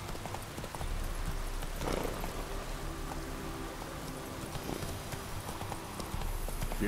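Horse hooves clip-clop on the ground in the video game The Witcher 3, a steady walking rhythm of moderately loud hoofbeats over a constant outdoor ambience with a rain-like hiss.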